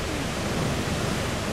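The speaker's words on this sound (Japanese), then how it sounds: "でっかい滝だね。" A big waterfall roars in a steady, dense rush of falling water, loud and unbroken from start to finish, with no voices.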